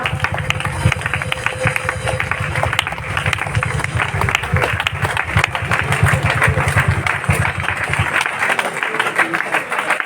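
Sustained, dense applause from a crowd at a parish youth seminar honoring a priest and nuns, loud and steady for about ten seconds, thinning slightly near the end.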